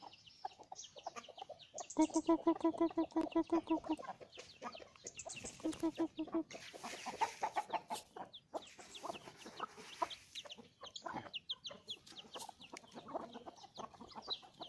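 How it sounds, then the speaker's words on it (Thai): Several Burmese fighting chickens cluck and chatter nearby in a steady, busy backyard flock, with a few sharper squawks breaking through the background noise. "เป็นไก่ชนพม่าทั้งนั้นเลยนะครับ"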